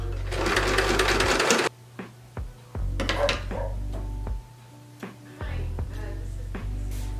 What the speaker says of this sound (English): Okay, so I just sewed this piece to this back piece.